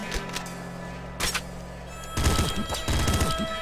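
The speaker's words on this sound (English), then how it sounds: "Okay, so that's going to fire a burst shot" Assault rifle burst fire in Nuclear Throne, heard as a couple of sharp, loud multi-shot bursts followed by a clustered run of rapid gunfire.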